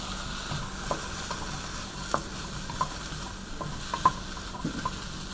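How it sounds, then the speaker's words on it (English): A stuffed bell pepper hotdish being stirred in a pan outdoors, with a soft background sizzle and a series of scraping stirs and light utensil knocks against the pan, close and unaccompanied by speech. "Give her a nice little stir here."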